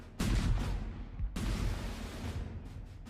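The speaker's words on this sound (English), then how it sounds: "The Yorkists bombarded the fortress walls with their great guns" Medieval cannon fire pounds the walls of a besieged castle: two heavy booming blasts, each followed by a long rumbling roar, loud and close with no voices.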